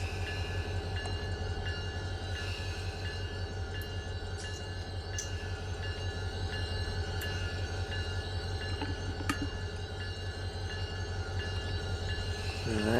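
A heavy freight train in Run 8 Train Simulator slows toward a stop, its steady rumble and rhythmic wheel clatter continuing with faint squeals and brake hiss above a constant drone.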